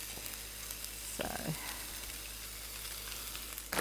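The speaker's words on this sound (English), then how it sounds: "And I have some peppers and onions. We're just going to throw them right in." Peppers and onions sizzle and fry in an electric frying pan as a steady, moderately loud hiss, with a brief stirring clatter partway through and a single spoken word at the start.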